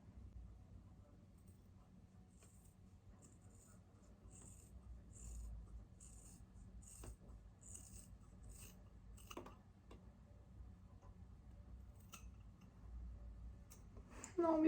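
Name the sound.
scissors cutting hair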